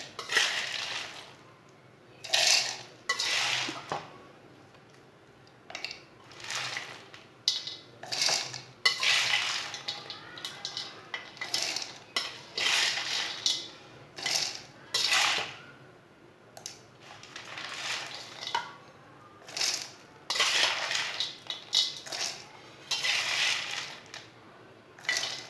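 Panjiri mixture tipped and scraped into a grinder jar, a long run of close, irregular clinks, knocks and scrapes of a spoon against metal and glass with brief pauses between.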